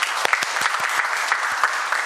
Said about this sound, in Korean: 우리 축하 박수 다시 한번 더 부탁드리겠습니다